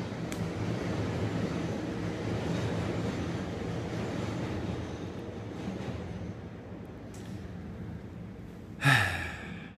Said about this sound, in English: we have the train that runs right next to us